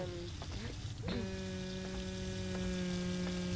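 Tap water runs in a horror video game, a steady hiss spread beneath droning electronic hum tones, with a few soft knocks near the start.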